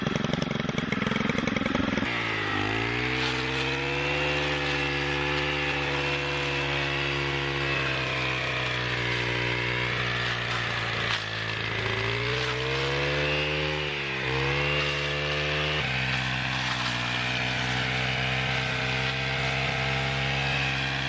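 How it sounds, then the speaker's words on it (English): Triclone weed trimmer cutting back roadside brush, its small engine buzzing loud and close, pitch dipping and climbing again as the blade bites into growth, never letting up. "I'm going to work to trim back the side of the road now"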